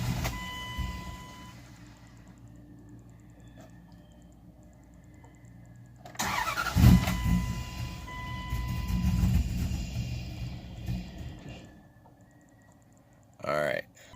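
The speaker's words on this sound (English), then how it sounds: "we're gonna go ahead and start it and let it just die out" A truck engine with new fuel injectors cranks and runs unevenly for several seconds, then sputters and dies out. Low gas is mentioned. Someone speaks over the quieter start of the clip.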